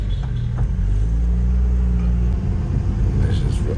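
A rebuilt Honda Civic VTi with a D16 engine revving while driving, a loud low rumble whose pitch holds steady and then drops and roughens partway through, with some talk over it.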